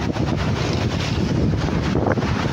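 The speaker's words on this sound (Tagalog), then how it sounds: "Lakas ang hangin." Strong wind buffets the microphone in a constant low roar, with water and waves washing faintly beneath the rumble.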